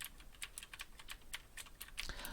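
Computer keyboard typing heard through a Creative Sound BlasterX H6 gaming headset microphone with voice clarity processing on, a quick irregular run of light key clicks at steady close range with no talk.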